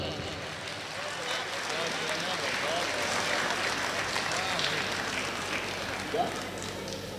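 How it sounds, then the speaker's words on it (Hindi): Steady, moderately loud applause fills a poetry gathering as poet Iqbal Asshar is welcomed, many hands clapping continuously with a murmuring crowd underneath. "ज़ोरदार तालियों से इस्तकबाल करें भाई इकबाल अशर"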